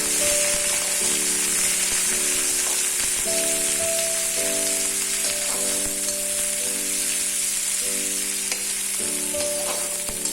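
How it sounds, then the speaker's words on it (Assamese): Chopped onions and whole garam masala sizzle in hot oil in a pan for an Assamese-style duck dish, a steady, loud, crackling fry that fills the whole stretch with no talk over it. "এতিয়া দিছো গোটা গৰম মছলা, কাটি ৰখা পিয়াজখিনি দি দিছো।"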